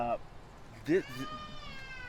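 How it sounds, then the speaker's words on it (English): A cat meows in a short rising-falling call near the end of the clip, with a faint earlier cry, heard outdoors at a filming location in Los Angeles. "Oh, it sounds like a cat."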